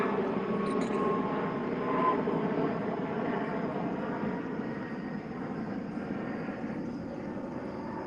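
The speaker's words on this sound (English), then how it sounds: "I know there's a plane going over right now" An airplane passes overhead outdoors, a steady broad engine roar that stays loud and even across the whole stretch with little change.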